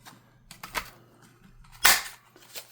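A handheld paper punch snaps through scrap paper to cut Christmas gift tag shapes, giving a few sharp close clicks spread out, with one loud crunching punch standing out near the end.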